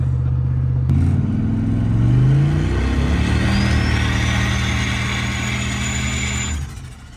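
A 550+ horsepower turbocharged police car engine revs hard from idle and holds a loud, rising roar for several seconds before cutting off abruptly, close and without talk.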